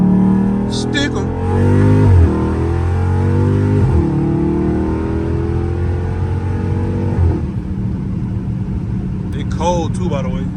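A loud Dodge Charger Scat Pack V8 revs repeatedly while driving on a cold day with the windows cracked, deep rumbling pulls rising and falling close up, with someone talking over parts of it.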